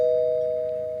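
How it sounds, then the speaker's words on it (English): A doorbell sounds with one sustained electronic tone, loud and close, fading slightly over a second. "Somebody's ringing the doorbell."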